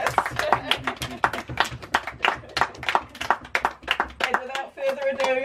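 A small group applauds at a home ribbon-cutting for a newly built sleepout, claps scattered and uneven, several hands close by, with talk and cheering mixed in throughout.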